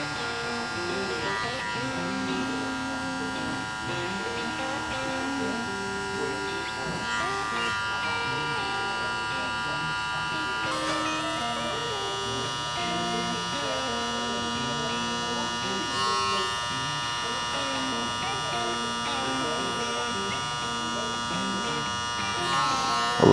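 Electric hair clippers with an adjustable lever hum steadily and close up while cutting a burst fade, and a voice talks throughout.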